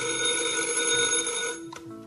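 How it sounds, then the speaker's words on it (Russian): Old telephone bell ringing in a 1978 radio drama, a loud continuous metallic ring that stops abruptly near the end, followed by a brief click. "вздрагивать каждый раз, когда телефон звонит"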